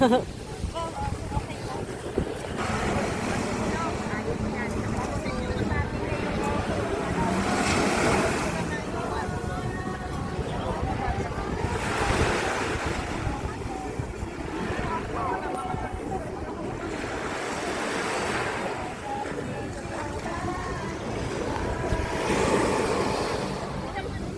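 Ocean waves surge and break repeatedly in slow swells at a Hong Kong beach baptism, mixed with wind buffeting and people talking over the surf.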